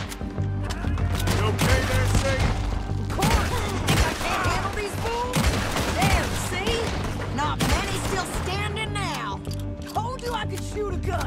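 A gunfight in Red Dead Redemption 2, with dense overlapping gunshots and cracks going off almost continuously, while voices talk over the firing throughout.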